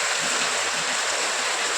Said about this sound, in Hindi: अब देखिए कितना तेज़ बारिश हो रहा है।